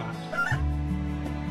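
Chickens cluck in the farming game Doraemon Story of Seasons, a short soft burst of clucking over a steady background music bed.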